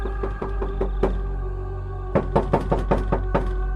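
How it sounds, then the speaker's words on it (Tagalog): Two groups of sharp raps land on the front door of a church at night, a short cluster first and then a louder, quicker series after a pause, set against a steady low hum. "may kumatok ng 2 beses sa harapang pinto ng simbahan"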